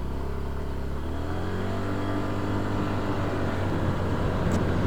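A Yamaha Ray ZR hybrid scooter pulls away hard, its small engine note rising steadily and continuously under full throttle, heard up close with no talking.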